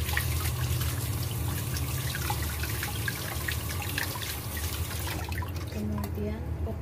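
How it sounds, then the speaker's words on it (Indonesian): A tap runs steadily while celery is washed clean for a beef tail soup, a constant close splash and trickle of water that fades slightly toward the end. "Seledrinya kita ini cuci bersih dulu"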